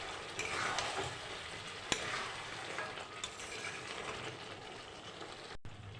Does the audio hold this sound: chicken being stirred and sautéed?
yes